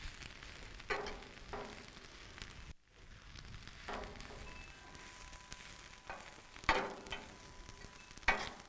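Eggs and ingredients stirred together in a cast iron skillet over residual heat at an outdoor cooking setup, giving a soft, steady sizzle with scraping stir strokes at intervals and a few sharper clinks.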